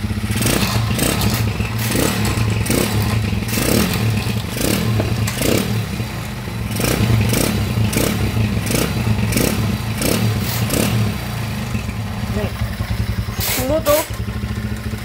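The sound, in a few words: Euro150 motorcycle converted to 200cc, engine running and revving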